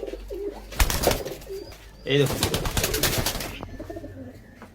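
Pair of Oman teddy pigeons in a loft, cooing in bursts between stretches of close talk, with wing flutters and rustling around them.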